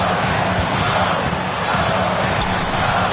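A dense, loud basketball video game crowd roars steadily throughout, with a commentator's voice briefly audible beneath the noise.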